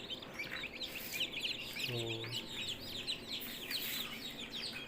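Chickens clucking and chicks peeping at a farm harvest, a close flock chattering in a constant high twitter, with one lower cluck and a brief spoken word.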